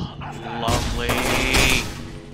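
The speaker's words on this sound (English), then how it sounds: "This is a needle gun?" A needle gun firing in F.E.A.R. 2 gives a rapid, continuous burst of shots that runs through the whole moment, loud and close.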